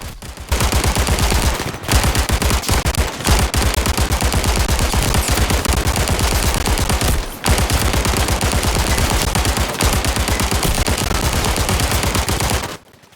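Sustained automatic weapon fire in the VR shooter Zero Caliber VR, loud and close, in long rapid bursts broken by two short pauses for reloading, with no voices over it.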